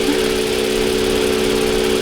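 A Toyota Avalon engine idles steadily after repair of a cylinder 6 misfire, giving a continuous, even hum with a low rumble and no talk.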